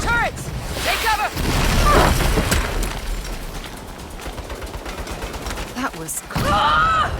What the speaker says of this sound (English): Turrets, take cover.